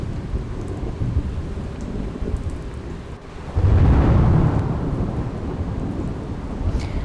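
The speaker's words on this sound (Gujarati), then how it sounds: "અનરાધાર વરસાદ વરસ્યો" Torrential monsoon rain pours steadily, with a deep rumble of thunder swelling midway and lingering under the constant hiss of the downpour.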